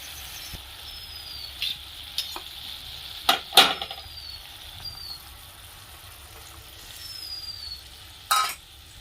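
A mixture of yogurt and gram flour is stirred in a pan for a Bengali chhana curry, a low steady sizzle with a few scattered spoon scrapes and clacks, one sharper scrape near the end, heard without speech.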